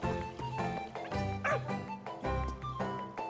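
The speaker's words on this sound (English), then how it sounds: "There's a dog there." A dog in a video game barks repeatedly in close, loud yips and bow-wows, broken by brief whimpers, over a steady stretch of a few seconds.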